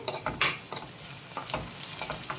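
Bitter gourd fry with small onions being stirred in a sizzling pan; irregular scraping strokes of a spoon over a soft, steady frying hiss, close and fairly quiet, with no talking.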